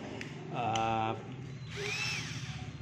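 An electric drill whines in two short bursts, spinning up to a high pitch and then winding down, close by with a quiet gap between, used to clean an electric fan shaft.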